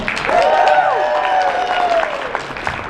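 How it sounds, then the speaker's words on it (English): Audience applause at an anime convention's closing ceremony, a steady wash of clapping from a crowd with a voice speaking over it at times. "We'll give a round of applause for Christina V anyway."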